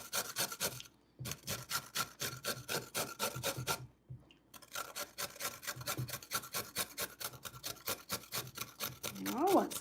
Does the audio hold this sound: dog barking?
no